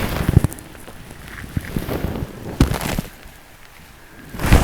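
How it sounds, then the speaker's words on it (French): Steady rain patters outdoors on a steep mountain track in the Alps, with gusts of wind buffeting the microphone and a few sharp knocks, no voices. "Ça vient comme ça dans la montagne sous la pluie."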